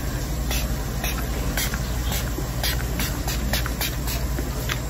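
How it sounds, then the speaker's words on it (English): Bursts of fine mist spraying, repeated in short irregular pulses over a steady background hiss, close by. "but I'm gonna spray a little bit more."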